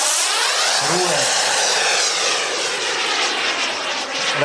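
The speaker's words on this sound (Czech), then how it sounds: "Následuje průlet." A large turbine-powered model jet, 3.5 m long with a 2.7 m wingspan and 33 kg flying weight, makes a loud flyby at the Jets over Czech airshow at Ivančice airfield, its roaring whine sweeping past in a steady rush.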